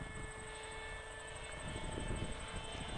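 An RC plane's electric motor running at just under half throttle, flying on an Omnibus F4 flight controller, gives a steady, continuous whine with a constant high tone over a broad airy drone, with no talk.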